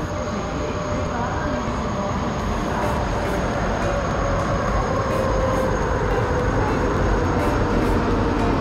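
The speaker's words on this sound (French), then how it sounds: "nous sommes à bord du TGV" Inside a TGV high-speed train, a constant broadband rumble of wheels and rolling carriage noise fills the space at an even level throughout, with a faint high whine running above it.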